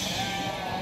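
Goats offered for sale on a farm in Dois Riachos, Alagoas, bleat in a short, loud, continuous burst that fills the moment without any talking.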